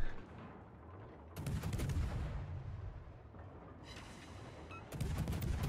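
Naval gunfire in the World of Warships naval battle game, light cruiser guns firing in a few heavy booming salvos that rumble and decay over a steady low background.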